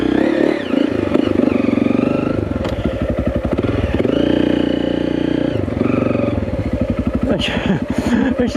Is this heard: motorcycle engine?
yes